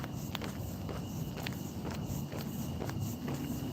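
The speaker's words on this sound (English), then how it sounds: "So we're just moving, walking." Footsteps of a person walking outdoors in the rain, a steady series of close, regular treads with soft crunching impacts over constant rain and ambient noise.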